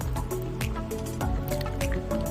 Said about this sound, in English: in goes our cubed paneer pieces. Give it a stir